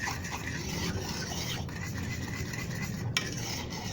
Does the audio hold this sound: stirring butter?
yes